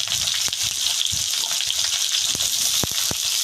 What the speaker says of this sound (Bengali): পটল আলু আমি একসঙ্গে ভেজে নেব।